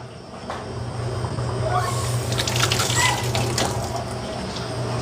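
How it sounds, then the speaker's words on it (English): Water runs from a tap over something being rinsed in a sink during catering prep, a steady close hiss and splash that swells slightly midway, with a faint voice underneath. "Now rinse it off."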